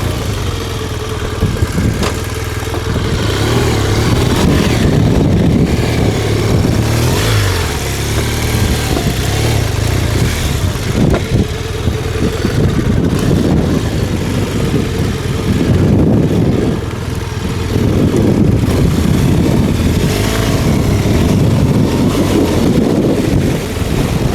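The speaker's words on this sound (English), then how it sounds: "what I'll do is I'm just gonna add some power, we're up on the hill, and then climb on the bike and ride it down" An adventure motorcycle engine drones steadily on a soft, deep sand hill, loud and constant throughout with heavy wind buffeting the microphone and no clear separate revs.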